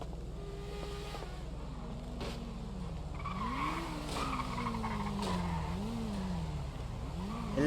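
Tire skid from a motorbike in a video game, a long sliding squeal with rising and falling pitch sweeps over a steady engine drone, continuous and fairly close.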